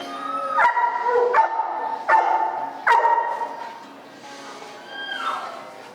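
A dog at a training facility barks four sharp, loud barks in a steady rhythm close by, followed by a softer whine or yelp.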